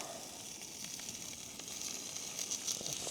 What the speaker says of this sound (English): Frying already because it's super thin titanium pan.